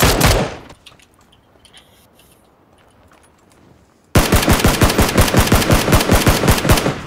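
Enemy gunfire in the shooter game PUBG: a loud opening burst dies away to sparse faint shots, then a sustained rapid automatic volley erupts, dense and close, with no talk over it.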